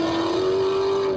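A steady engine drone with a sustained tone, like a GT1/GT2 race car holding speed on a track behind a safety car, continuous and fairly loud with no voices.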